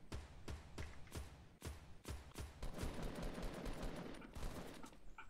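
Gunfire in Fortnite Battle Royale aimed at a falling supply drop, a run of sharp evenly spaced shots followed by denser rapid bursts, loud and close with no talk.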